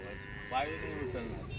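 A single low moo rises briefly from a bull at a village bullock market in Digras, faint and short against steady background chatter of buyers and sellers.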